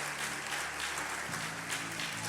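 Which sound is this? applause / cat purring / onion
applause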